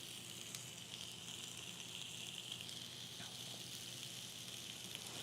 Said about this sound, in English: you're going to hear that nice sizzle